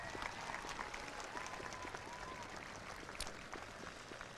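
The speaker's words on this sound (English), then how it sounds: "Let's give one last round of applause for Sarah and Janice" A crowd at a 2022 high school graduation ceremony applauds, a steady wash of clapping from a large audience heard from a distance, with a few louder claps standing out.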